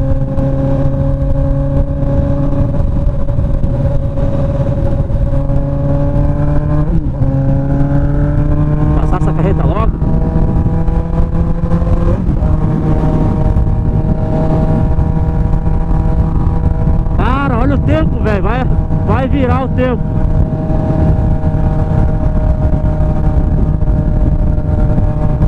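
Honda CB 1000R motorcycle with a straight-pipe exhaust revving and pulling through the gears, a loud, harsh, continuous engine drone rising in pitch with shifts, recorded close with a rider's voice talking over it.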